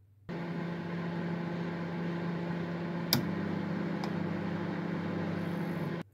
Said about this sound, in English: I think we need to heat them up just a little bit in the microwave before they're ready to go